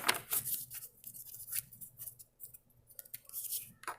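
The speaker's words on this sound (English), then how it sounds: "Pre-shuffling these cards." Soft, quick riffling and clicking of cards being shuffled close by, in short bursts with brief pauses, fairly quiet.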